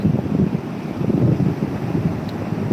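Big sea waves at Hamsaladeevi beach, a steady loud rumbling wash of surf mixed with heavy wind buffeting on the microphone, with no voices.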